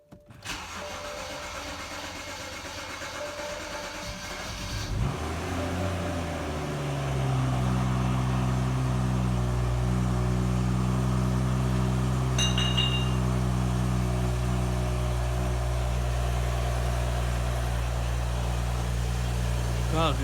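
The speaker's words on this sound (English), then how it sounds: "So we're gonna start the car now." A BMW 335xi with the N55 engine cranks and catches, then settles into a steady, loud idle close by after a short rise in revs, with a brief high chirp partway through.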